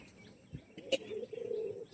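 Pure Chennai breeder pigeons give a soft, low cooing murmur that swells late in the moment, after a single sharp tap, fairly faint against a quiet background.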